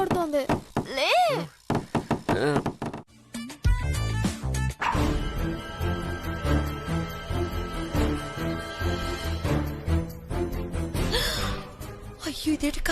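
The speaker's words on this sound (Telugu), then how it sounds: "మీ అమ్మ తలుపు కూడా కొడుతోంది" Several sharp knocks on a house door sound in a domestic scene, mixed with talking voices and followed by background music.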